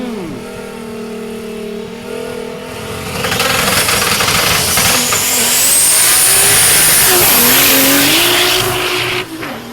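ASA class race cars launch down the drag strip at Mason Dixon Dragway, engines revving up from idle into a loud, sustained full-throttle roar with rising pitch and a brief tire squeal, ending as they pull away.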